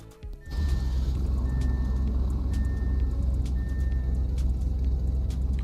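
An Audi RS Avant idles in the Roblox game Greenville, a low steady engine rumble that starts abruptly and holds evenly, with faint repeated beeps and clicks sitting on top.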